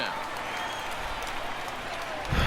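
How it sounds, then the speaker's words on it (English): Crowd at a Denver ballpark in the baseball video game MLB The Show 19 keeps up steady applause and cheering, with a commentator talking over it. "Fans are cheering here in Denver."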